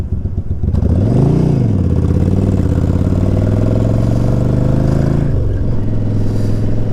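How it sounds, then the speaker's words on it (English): A loud engine rises in pitch, holds a steady drone, then drops and changes as a nearby vehicle moves through backed-up road traffic, with clattering noise and no voices. "Traffic's backed way up."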